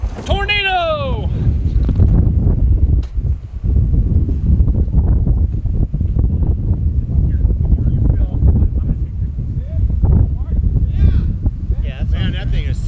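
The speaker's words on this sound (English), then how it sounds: "Oh, this is going to be a huge tornado." Strong roaring wind during a July 2010 tornado in Northfield, Minnesota, blowing hard and continuously across the microphone while several people talk and shout over it.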